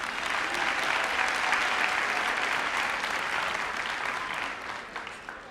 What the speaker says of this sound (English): please give a round of applause for the teachers and staff of Northeast High School